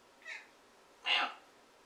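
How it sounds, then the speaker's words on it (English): A house cat meows twice indoors, a short soft call followed by a louder, longer meow, close by and with nothing else around it. "maybe you heard Jasper meowing"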